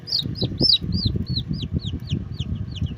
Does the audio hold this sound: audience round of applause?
no